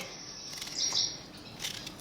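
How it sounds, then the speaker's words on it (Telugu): Sparrows chirp in quick, scattered bursts while drinking, a brief louder flurry near the middle, with a steady airy background and no voices. "పిచ్చుకలు అసలు ఎన్ని వచ్చేసినాయో ఎన్ని రంగులు పిచ్చుకలు వచ్చినాయో"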